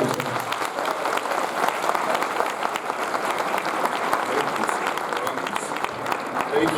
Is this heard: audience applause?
yes